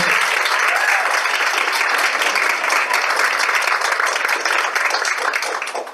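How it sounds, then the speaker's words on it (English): A room full of people at a Harvard Law Review event gives the moderator a dense, continuous round of applause, steady and fairly close, tapering slightly at the very end. "Could we also just give Nathan a round of applause for being an amazing moderator?"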